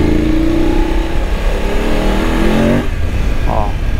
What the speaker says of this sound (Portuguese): a moto até distraciona quando acelera